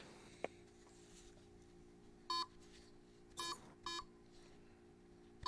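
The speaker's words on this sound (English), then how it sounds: "What is that fucking beeping, man?" Three short, clear electronic beeps sound at a moderate level over a quiet background with a faint steady hum, the second and third close together.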